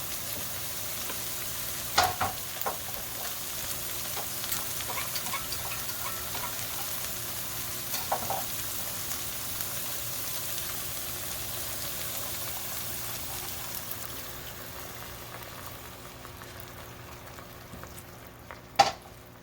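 Beef stroganoff with a cup of beef broth simmering in a pan, giving a low, steady bubbling hiss that fades toward the end, with a few faint clinks and one sharp knock near the close.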